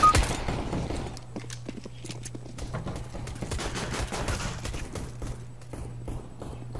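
Sharp CS:GO gunshots snap out at irregular intervals, fairly faint and spaced apart, over a low steady hum of in-game ambience.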